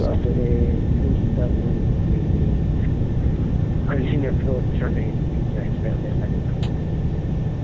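A Boeing 747-400 takes off in a home flight simulator: a loud, steady engine roar and rumble runs throughout, with voices talking over it.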